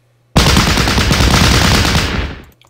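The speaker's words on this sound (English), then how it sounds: "machine gun, guys. You do it now." Machine gun fire in the World War II strategy game Battle Academy, Market Garden campaign, comes as a sudden loud sustained burst of rapid shots lasting about two seconds before trailing off, with no talk over it.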